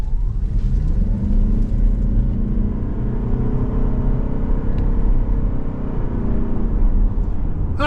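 Mazda CX-50 Hybrid SUV with a Toyota 2.5-liter inline four-cylinder hybrid driveline pulling away from a stop in normal mode, a steady loud engine and road rumble building smoothly under the cabin, with no talk over it.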